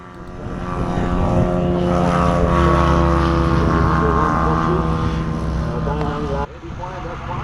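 A small Junkers airplane at an air show drones with a steady propeller engine, loud and close, with a strong low hum and layered harmonics, then cuts sharply near the end as voices mix in.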